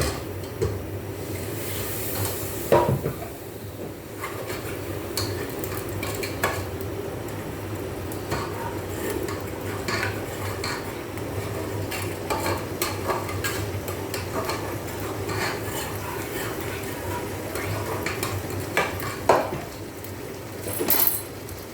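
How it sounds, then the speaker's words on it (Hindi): Spice masala mixture being stirred in a cooking pot with rice and a little soup, a steady scraping and clinking of a spoon against the metal pot throughout, with occasional sharper knocks. "मसाले को मिक्स कर दूंगा"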